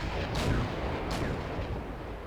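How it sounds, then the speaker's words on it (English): Artillery units fire in the real-time strategy game Wargame: European Escalation, two booming blasts about a second apart over a dense rumbling battle din, with no talking. "he's taking a bit of a risk with these artillery units."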